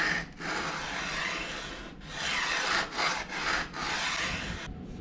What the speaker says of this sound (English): I'm going to take the rest down with sandpaper